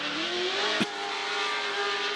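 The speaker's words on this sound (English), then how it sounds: "Another crazy loud car." A loud Formula Drift race car at a Utah pro practice session revs hard, its engine note holding a sustained rising whine with one sharp crack midway, close and continuous.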